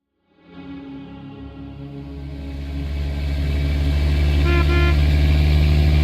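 Car horn in The Stanley Parable, a loud sustained honk that starts suddenly and holds steady, swelling slightly over six seconds with a rumbling engine tone beneath and no voices.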